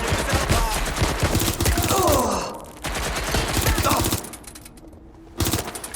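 Bursts of automatic gunfire in the video game Watch Dogs Legion set in London, rapid loud volleys with a short break, then more shots, under a busy mix of game sound and voices.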